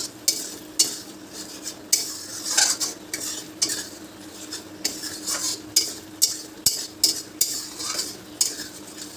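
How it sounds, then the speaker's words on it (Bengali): Cashew paste fried and stirred into a spiced masala in a pan for katla fish kalia: a utensil scrapes the pan in repeated rhythmic strokes with a faint sizzle beneath, no talking. "এবার দিয়ে দেব কাজু বাদাম পেস্ট করা। এটাকে একটু ভেজে নেব।"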